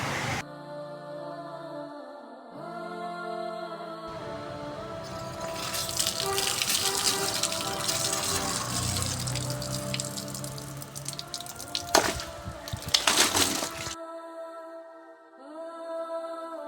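Water from a newly connected water line in Sri Lanka runs and splashes steadily, growing louder and more turbulent midway before ending abruptly, with music tones heard before and after it.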